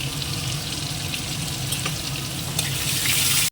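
Potato pieces frying in hot oil with a pinch of turmeric, a steady, dense sizzle that stays close and loud throughout with no voices.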